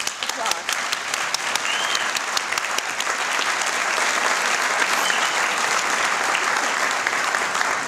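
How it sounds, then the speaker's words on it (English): A large audience at a university honors convocation applauds steadily, with dense, loud, even clapping that continues throughout without letting up. "We give them all a applause."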